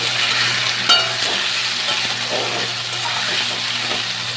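Spices, green chili and chopped tomato sauté in a pan for khichuri, a steady broadband sizzle with a constant low hum beneath and occasional spoon scrapes and stirs, close and fairly loud throughout.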